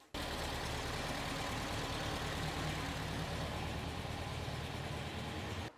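A Porsche 356 engine with Solex 40P11 carburetors runs at a steady idle with the fuel shut off at the tank, a continuous low, rough drone that holds almost unchanged, then cuts out at the end.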